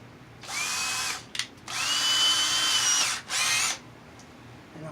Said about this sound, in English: And I'll drill my hole.